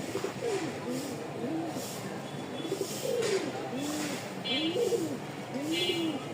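Bokhara pigeons coo repeatedly in a loft, their low rolling calls recurring steadily throughout at close range, with faint chirps and a person talking underneath.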